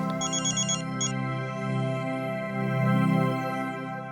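Mobile phone ringtone plays clearly and close, a bright repeating electronic melody with ringing chirps early on over a sustained tonal backing, with no talk.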